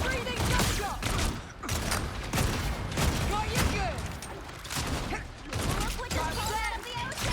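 Rapid bursts of gunfire in the online shooter Blade Eternity crackle almost continuously, dense and loud, with a player talking over the barrage.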